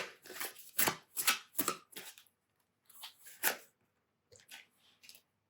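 Tarot cards being shuffled by hand in several short riffling bursts separated by brief pauses, close and fairly quiet, with no voice.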